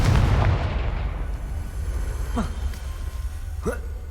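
A Confringo fire spell explodes in the video game Hogwarts Legacy: a loud, deep boom bursts at the start and fades into a lingering rumble, followed by a couple of short rising chirps.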